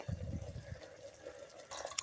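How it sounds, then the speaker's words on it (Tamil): Water pours into a pot of urundai kuzhambu seasoned with turmeric, rock salt and chili powder, giving a soft, close bubbling splash at the start that fades to a quiet trickle before a brief splash at the end. "தண்ணி தேவையான அளவுக்கு ஊற்றிக்கோங்க."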